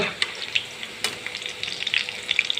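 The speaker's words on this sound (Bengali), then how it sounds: "আমার এক পিঠ ভাজা হয়ে গেছে, আর এক পিঠ আমি সবগুলো উল্টে নিলাম।" Fritters (bora) of raw potato paste sizzle steadily in hot oil after being flipped, a close, crackling fry with scattered bright pops and spatters and no voices.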